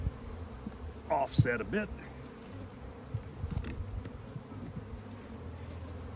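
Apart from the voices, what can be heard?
bees buzzing around an opened nuc hive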